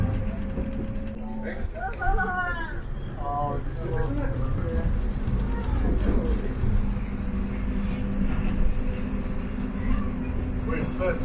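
A heritage train on the Worth Valley Railway, hauled by a 1950s–60s British diesel locomotive, gives off a steady low rumble and clatter from inside the carriage, with people talking over it throughout.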